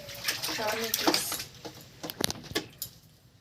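Water splashes and patters during a child's bath with shampoo and soap, in irregular bursts alongside someone speaking softly.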